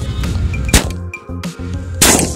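A shotgun-shell style Diwali firecracker goes off with a sharp, loud crack, then a second broadband burst follows about a second later, with no talking.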